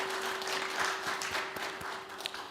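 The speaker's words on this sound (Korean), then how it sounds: "박수 올려드리겠습니다." A church congregation applauds after a sermon, a soft, dense wash of clapping with a few sharper claps standing out, heard at a distance over a steady low hum.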